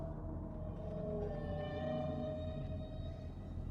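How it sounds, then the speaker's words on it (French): Deep whale calls moan and wail in long, drawn-out tones over a heavy low underwater rumble, steady and fairly distant, with no voices. "Ce n'est qu'une baleine. Normal que ces bruits vous effraient."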